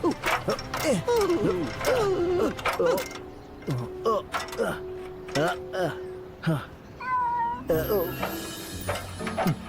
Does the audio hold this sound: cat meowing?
yes